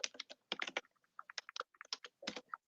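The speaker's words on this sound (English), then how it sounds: "Okay, I'm typing it too." Computer keyboard typing in close, crisp clusters of key clicks separated by short pauses, heard alone without voices.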